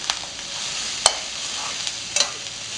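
Green chili pepper sizzles in hot oil as it is stirred, a steady frying hiss with a few sharp clicks of the spoon against the pan, close by.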